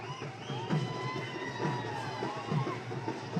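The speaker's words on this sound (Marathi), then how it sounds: "विजयी जल्लोष सुरू आहे" A local election victory celebration for Zilla Parishad and Panchayat Samiti results, where a crowd cheers and shouts in a steady, dense roar with scattered voices, including children's, rising over it.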